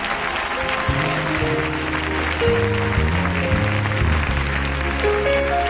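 A steady wash of audience applause fills an evening session of a women's conference, continuous and fairly loud throughout, with sustained keyboard chords playing underneath.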